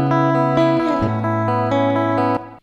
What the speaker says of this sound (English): I got this guitar loop pulled up here. It doesn't have any effects on it besides reverb